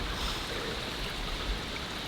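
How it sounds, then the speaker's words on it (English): A stream flows steadily beside an old logging trail on a rocky hillside, a continuous broadband rush of water that holds an even level throughout, with no voices. "I hear lots of water."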